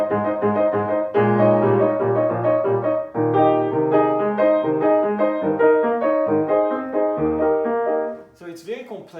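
Right-hand piano chords from Beethoven's Sonata No. 12, Op. 26, first movement, played in a steady series of repeated, ringing clusters, close and clear, fading out near the end.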